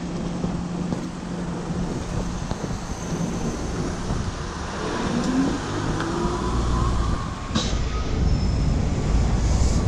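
Metro train ride in China, a steady broadband rumble of the carriage in motion with a low hum and occasional brief clanks, continuous and fairly close throughout.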